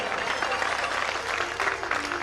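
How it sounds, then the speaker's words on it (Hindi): A temple festival audience in Rohini claps steadily for a dancer-performer from Rajasthan, a dense, even burst of applause lasting the whole moment with no words spoken over it. "अरे मेरे लिए तालियां बजाओ।"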